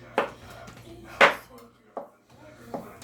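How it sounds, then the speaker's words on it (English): A knife slices through a block of cheese for a lasagna topping, producing four separate sharp taps on the cutting board spaced about a second apart, with a voice speaking quietly between them. "So I'm just gonna kind of slice this up like so"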